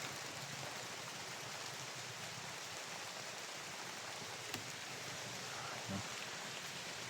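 Steady rain hisses softly and evenly, with a couple of faint taps standing out from the constant wash.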